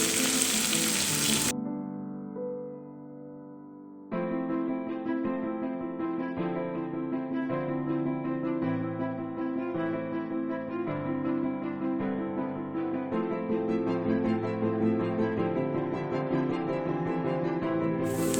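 Fish frying in a covered pan: a steady sizzle that is loud and broad at first, then sits low under tuneful background music.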